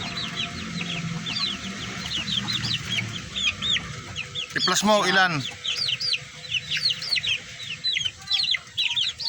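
Chickens cluck steadily nearby with a rooster crowing loudly mid-way, while a person speaks briefly over the flock.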